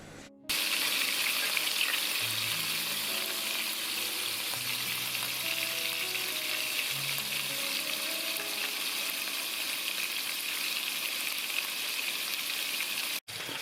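Spiced beef chapli kebab patties fry in a pan, a loud, steady sizzle and crackle running throughout with faint tonal background hum, no talking.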